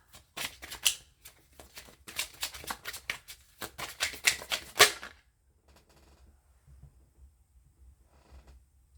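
Cards from a Kipper deck being shuffled by hand in a rapid run of crisp riffling flicks for about five seconds, close and fairly loud, then stopping into near silence with a faint rustle.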